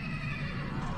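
A horse in the Minecraft Mo' Creatures mod gives a steady, full neigh that fills the whole moment, loud and close with no talk over it.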